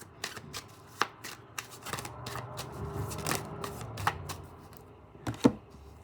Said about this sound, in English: Let's get the rest of the cards out.